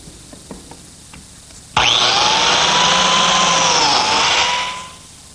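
Biscuit joiner cutting a slot into a wood piece for a glued joint: a loud, steady high-pitched motor whine with blade rasp that starts abruptly, holds for about three seconds, then winds down, after a few light taps.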